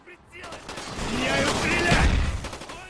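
AK-74 rifle fire in Call of Duty Black Ops, a short burst of shots with a low boom under someone talking.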